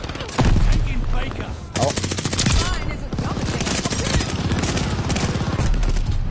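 Rapid, loud automatic gunfire rattles almost nonstop in a zombies shooter video game on PS4, in dense bursts broken by brief pauses, with a short exclamation from a player over it.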